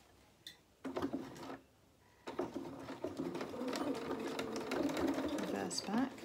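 A sewing machine stitches the placket of a T-shirt dress in short bursts that turn into a steady run, with someone talking over the whirring.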